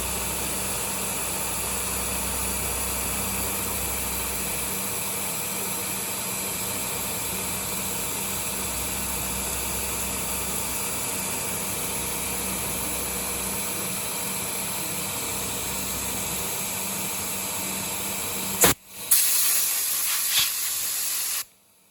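A Sharp CNC milling machine whirs and hisses steadily as it cuts a circular pocket in a large Lexan guard panel, then the machine noise stops abruptly near the end, leaving a few faint clunks.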